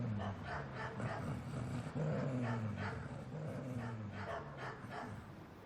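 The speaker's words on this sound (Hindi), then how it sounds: "त्यागी ने देखा कि 10-12 बड़े बड़े काले कुत्ते इधर उधर घूम रहे थे।" A pack of ten to twelve big black dogs growls and barks continuously, with deep rumbling growls and overlapping barks close by.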